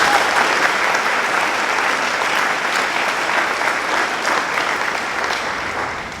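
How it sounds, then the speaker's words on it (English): A large audience at a university business college event gives a dense, continuous round of applause that holds loud and even before tapering slightly at the end, with no talking over it. "Please give them a big round of applause."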